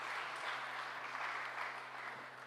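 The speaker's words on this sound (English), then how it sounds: "give them a round of applause as they come forward" A ceremony audience at a Martin Luther King awards event applauds steadily for award recipients coming forward, a continuous, fairly distant wash of clapping with a faint low hum beneath.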